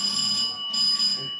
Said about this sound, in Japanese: 火災報知器がついています